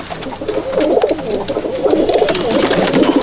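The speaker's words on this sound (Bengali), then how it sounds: "এই যে আমার আরেক পেয়ার পায়রা। পায়রার কালার আলাদা, কিন্তু পায়রার কোয়ালিটি সেম, একই পায়রা।" Madrasi pigeons cooing in a loft, several birds producing loud, continuous overlapping low coos close by.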